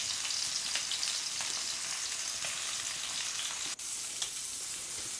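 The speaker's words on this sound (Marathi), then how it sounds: "छानपैकी आता पापलेला आपण तळण्यासाठी ठेवलेलं आहे" Rava-coated pomfret fish fries on a low flame in a pan, producing a continuous soft, even hiss with only slight variation and no voices.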